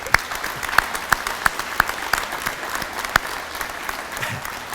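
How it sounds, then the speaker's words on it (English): A round of applause at a school district security graduation ceremony, scattered hand claps from a modest crowd, steady and moderately distant, with no talk over it. "maybe a round of applause for Jason."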